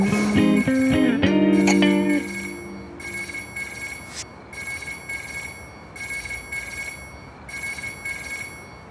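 A telephone rings in a romantic drama scene, its bell repeating in regular bursts with short pauses between them. Brief voices and clatter come just before the ringing begins.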